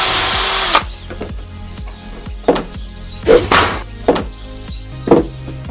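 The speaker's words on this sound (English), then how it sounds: "Don't forget to drill your pilot hole first." A power drill whirs briefly at the start as it drills a pilot hole for shelf fitting, then several sharp knocks and thuds follow at uneven intervals, close by.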